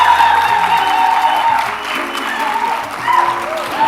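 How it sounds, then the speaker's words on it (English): Steady audience applause at a youth leadership conference session, a sustained dense wash of clapping from a large hall that holds at an even level throughout, with faint voices and whoops mixed in. "Please do not stop clapping until she gets to the stage."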